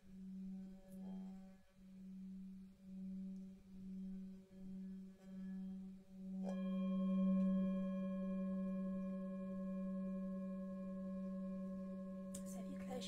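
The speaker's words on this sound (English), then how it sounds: "the resonance of these Himalayan bowls is just really deep" A deep, steady hum from a struck Himalayan singing bowl pulses slowly, then swells into a sustained, layered ringing tone that holds, quiet and close.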